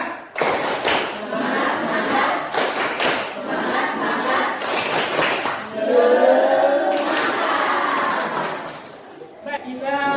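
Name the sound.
class doing a rhythmic spirit clap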